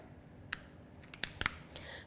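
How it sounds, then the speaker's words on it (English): A few crisp, sharp snips and clicks of scissors cutting through a thick lobster shell, close up, spaced irregularly over quiet background noise. "You can use scissors if the shell is quite thick."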